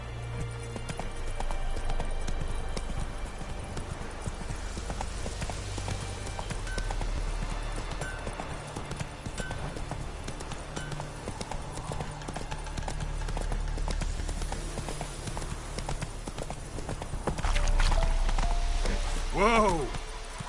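Roach, a horse in The Witcher 3, trots with steady rapid hoof clip-clops over a low game backdrop, speech occasionally on top, and a whinny rings out near the end.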